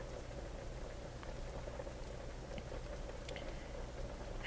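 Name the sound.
parmesan cheese sauce simmering on low heat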